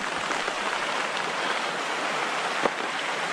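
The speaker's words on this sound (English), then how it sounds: "The rain has picked up a bit more." Steady rain falls on a winter campsite in the Catskills, a dense, even hiss of drops close around with a brief louder patter near the end.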